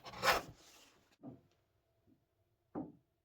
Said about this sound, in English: I cut slightly on the safe side and then make the final tuning using my shooting board.